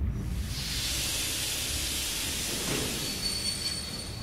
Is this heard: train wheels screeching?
yes